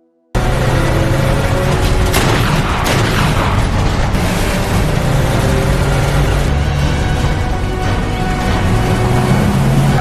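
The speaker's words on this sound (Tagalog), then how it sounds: "bigla na lang binaril ng opisyalis si Boss Za" Gunfire and booming blasts in an action scene from the film Monk Comes Down the Mountain, loud and dense throughout, layered with a thick, continuous soundtrack mix and no clear gaps.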